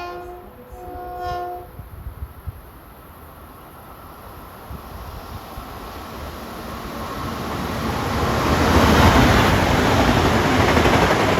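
LIRR diesel train passing westbound on a triple-track line in fog, a brief horn blast opening, then a low rumble that swells steadily into a loud roar of engine and wheels as it draws near.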